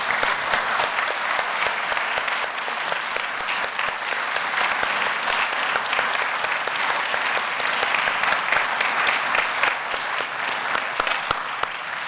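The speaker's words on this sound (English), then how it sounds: "And now enjoy me with an applause for this living treasure." Sustained audience applause at a Living Treasures honoring ceremony, dense steady clapping from a sizable crowd lasting throughout, with no talking over it.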